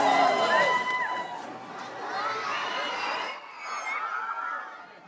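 A crowd greets a prince and his bride-to-be on a royal walkabout, with excited voices, shouts and cheering chatter, loud and close throughout, dipping briefly before rising again.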